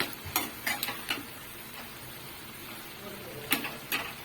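Pui shak being stirred in a pan over raised heat, with a series of scraping clacks of a spatula against the metal over a soft background sizzle, irregular strokes, close and moderately loud.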